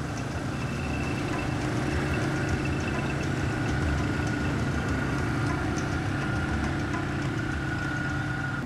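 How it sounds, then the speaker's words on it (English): Quad bikes running outdoors in Mauritius, a steady continuous engine drone at moderate distance, even in level throughout with no talk. "the disturbance turns out to be only quad bikes"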